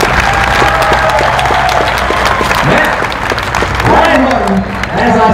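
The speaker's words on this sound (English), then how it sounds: "put your hands together for John Owen." Audience applause at a Street Outlaws No Prep Kings drag racing event, dense continuous clapping from a crowd, loud and sustained, with a voice talking over it.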